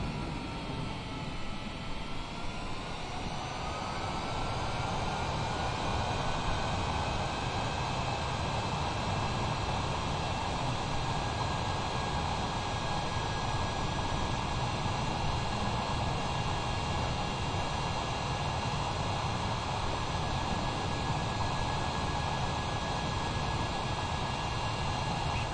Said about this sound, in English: soon we are going to land the plane